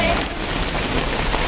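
Heavy monsoon rain in Mumbai keeps up a steady, dense hiss of drops on surfaces, loud and close, with no pauses.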